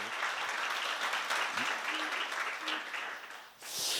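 A seminar audience gives steady, moderately loud applause from a crowd of many hands. It sounds somewhat distant and fades briefly near the end, and a faint voice rises under it.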